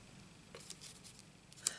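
Scissors snip through paper to cut out an oval shape for card making, giving a few faint, quiet cuts and clicks close by with no talking.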